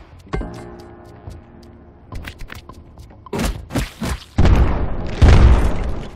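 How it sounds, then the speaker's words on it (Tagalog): Bomb explosions in the Nintendo Switch game Eastward: a run of thuds and booms builds to a heavy, close blast near the end, with no talking. "Meron din siyang bomba."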